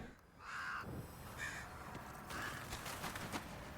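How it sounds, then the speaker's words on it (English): Crows in Demon's Souls caw three or four times at moderate distance, hoarse calls spaced out over a low ambient wash in the dragon's feeding grounds. "those are beautiful birds"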